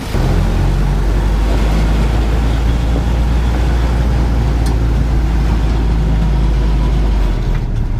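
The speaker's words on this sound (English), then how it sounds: "we're just cruising around the little M38. It's actually really fun to drive." A 1952 Willys M38 military jeep drives along, its engine giving a loud, steady low drone close by that lasts several seconds before easing off near the end.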